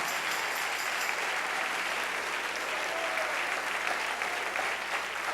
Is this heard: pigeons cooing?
no